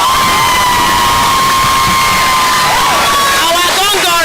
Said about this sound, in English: you will give them a round of applause